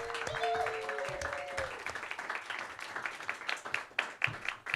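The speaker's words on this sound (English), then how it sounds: "Start clapping for your next competitor." Applause from a comedy roast battle audience builds into sharp, uneven clapping, growing louder and more scattered toward the end, with a brief whistle-like tone early on.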